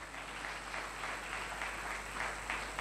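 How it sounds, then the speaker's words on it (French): Audience at an international conference on sexual harassment applauding after a speech, a steady wash of many hands clapping that holds throughout, moderately loud and unbroken. "Une fois de plus, une tonne d'applaudissements."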